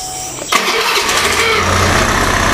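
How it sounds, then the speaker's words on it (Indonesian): A car engine with a high-idle fault is cranked and started again. A steady hum gives way to a sharp catch as it fires, then a loud, even, high-revving idle holds with no talking. "Coba lagi, saya ulangi, nyalain lagi ya."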